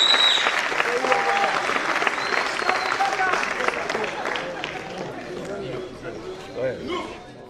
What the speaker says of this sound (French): Vous pouvez applaudir pour toutes ces personnes qui sont là.